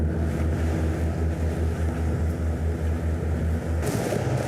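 Greenline 45 Coupé yacht with Yanmar engines speeding up, a steady low engine drone mixed with rushing wind and water noise close to the microphone, no voices.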